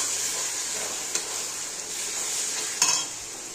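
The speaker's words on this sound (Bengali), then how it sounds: "এবার আমি কষিয়ে নেব মশলাটা।" Spice masala with salt, turmeric and chilli powder sautéed in a pan for a Bengali mutton kosha: a constant hissing sizzle with two brief scrapes of a stirring spoon, close and even, with no talk.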